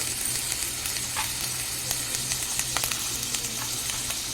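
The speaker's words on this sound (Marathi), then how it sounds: "कांदा घेते आधी टाकून आणि हे जे मटर आहे ते टाकायचे" Chopped onion and peas sizzle in a pan for matar Maggi, a continuous close frying hiss with light stirring clicks and no voices.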